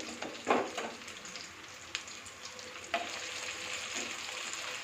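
A potato snack fries in hot oil, producing a steady crackling sizzle with occasional louder pops and stirring clinks, close up and without any voices.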